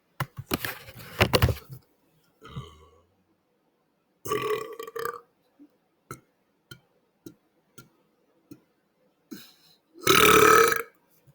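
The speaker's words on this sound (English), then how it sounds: "I'm not going to burp unless the Lord wants me to burp." A man lets out several loud, drawn-out belches, with a burst near the start, more mid-way and a strong one near the end, separated by small clicks and ticks in an otherwise quiet room.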